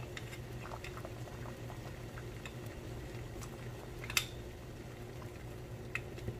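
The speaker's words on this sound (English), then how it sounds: "we're going to let this one boil for 45 minutes or until the meat are soft" Beef bones boil in a pot, making steady bubbling and gurgling with scattered pops. The sound is fairly close and even throughout, with one sharper click near the middle.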